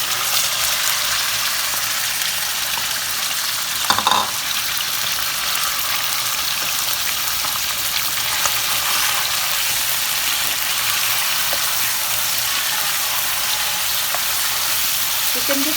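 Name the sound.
chicken frying in oil in a pan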